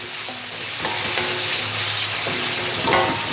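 Salted cumin rice stirred in a hot pan, a soft scraping and shuffling with steady low sizzle underneath, a few brief spoon strokes across the pan surface, close and moderately loud.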